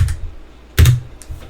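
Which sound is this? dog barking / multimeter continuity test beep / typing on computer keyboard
typing on computer keyboard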